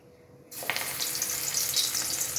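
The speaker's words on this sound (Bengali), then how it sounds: "এবার আমি এটা দিয়ে দেবো তেলের ওপরে ছোট ছোট করে" Small pieces of flour batter drop into very hot oil, setting off a sudden, loud, steady sizzle that starts after a brief quiet moment and continues close up.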